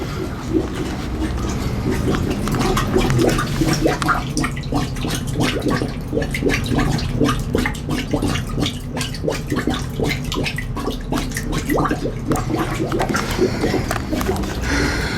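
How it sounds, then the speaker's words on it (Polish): Active geyser aboard a ship, water bubbling and dripping steadily, close and fairly loud, with a continuous gurgle and scattered splashes. "Teraz mam tutaj aktywny gejzer. Widzieliście kiedyś aktywny gejzer na statku?"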